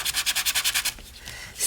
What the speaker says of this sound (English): We are going to go in and grab that sanding block